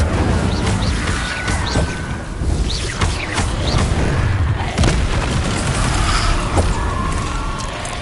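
Incendio fire spell cast repeatedly in Hogwarts Legacy, heard as dense whooshing bursts of flame and impact booms in a busy, loud combat mix, with no voices.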